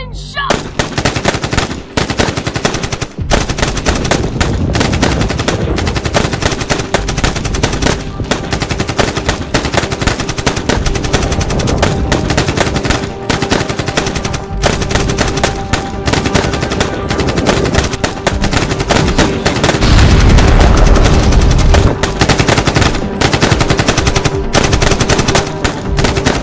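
Staged WW1 battle with relentless machine gun fire and gunshot effects, rapid loud bursts rattling continuously with brief gaps, a heavier low blast near the end.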